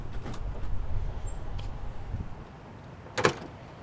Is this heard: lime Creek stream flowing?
no